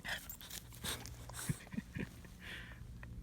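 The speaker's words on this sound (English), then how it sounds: "He's a good dog." A dog pants quietly close by, with a few soft whines and snuffles over a low background hum.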